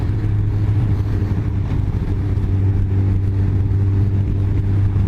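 A Kawasaki ZZR 1400 sports-tourer motorcycle accelerating at about half throttle on a road test ride, heard as a loud, steady engine drone with rushing wind noise throughout and no speech.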